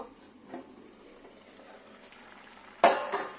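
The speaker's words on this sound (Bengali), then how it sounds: "আমি আবার ঢাকাটা খুলবো" The lid of a pot of simmering vegetable curry with greens is lifted, a sudden loud metallic clank near the end after a quiet stretch of faint simmering and small clinks.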